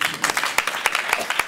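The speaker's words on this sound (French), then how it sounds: "On peut les applaudir." Comedy show audience applauding, a dense wash of many hands clapping at close range, steady and moderately loud for a brief stretch.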